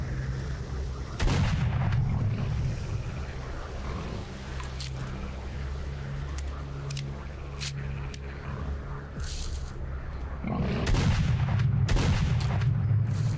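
Bursts of heavy gunfire from the game STALKER, a loud volley near the start and another near the end, with a low rumbling ambience between.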